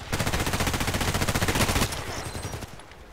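Rapid repeated gunfire in the Contract Wars video game, attributed to a TT pistol fired at long range, a dense loud burst of shots lasting nearly two seconds, then fading into quieter echoing shots and reverberation.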